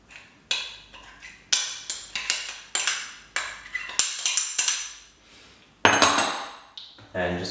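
Metal utensil clinks and knocks against a bowl in a series of sharp, irregular strikes while currants, mixed peel and melted margarine are worked into a dough, close and fairly loud, with no talking.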